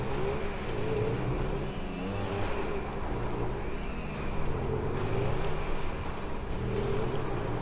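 A motocross bike's engine revs steadily in GTA V Online, a continuous buzzing drone that holds at a fairly even level for several seconds with no voices over it.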